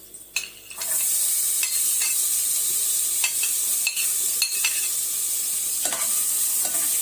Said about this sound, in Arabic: هنسيبها طبعا لحد ما تتبل معايا وتتحمص كده درجة حلوة كده، وتاخد اللون الاصفر كده